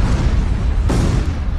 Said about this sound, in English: during that period of time, there was multiple explosions,